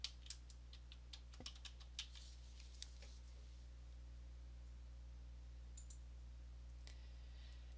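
A computer keyboard tapped to type a patent number into a form: a quick run of sharp clicks in the first few seconds, then a couple of isolated taps over steady low hum, fairly quiet and without talk.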